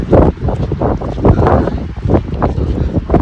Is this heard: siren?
no